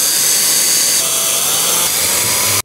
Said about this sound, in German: Das heißt, ich muss bohren.